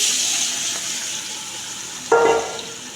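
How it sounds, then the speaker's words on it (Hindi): Marinated chicken goes into a hot pot with mint leaves for chicken dum biryani, and it sizzles. A steady fry hiss jumps into a loud, close burst of sizzling as the chicken lands, then settles back. "अब इसमें ऐड करेंगे मैरिनेटेड चिकन।"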